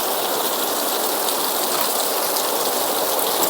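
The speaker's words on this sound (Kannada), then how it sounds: "ಮಳೆ ಯಾವಾಗ ಕಮ್ಮಿ ಆಗುತ್ತೋ ಗೊತ್ತಿಲ್ಲ." Steady, loud rain pours down close by, a dense continuous hiss with no letup and no voices, heard during a session about brush cutter and agricultural equipment problems.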